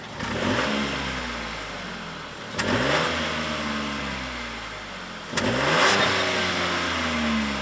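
A 2025 Chevy Trax's 1.2-liter three-cylinder engine revs up loudly in two distinct pulls, its pitch climbing then falling back as the car accelerates through gears with steady road noise between.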